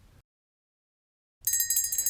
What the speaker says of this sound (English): The recess bell rang.